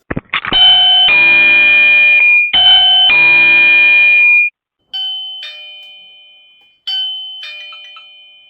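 An AOSU 5MP video doorbell chime plays loud and close, a sustained two-part melody followed by shorter, softer ding tones that fade out.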